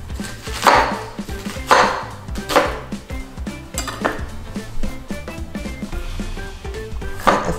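A knife chops Asian pear and onion into chunks on a board, with a run of sharp, evenly spaced cutting knocks over quiet kitchen background.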